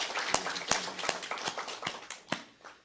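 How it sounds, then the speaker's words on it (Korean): Congregation clapping during a Korean Sunday church service, a handful of loud, roughly evenly spaced claps over a soft patter of hands, fairly close and without talk. "우리 하나님께 영광의 박수 올려드리겠습니다."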